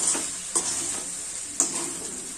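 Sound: stirring ladies finger rice with masala in a pan

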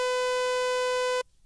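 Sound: sawtooth wave synth lead

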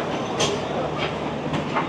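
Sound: express passenger train arriving at platform

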